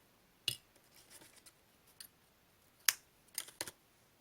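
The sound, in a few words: scissors cutting crochet yarn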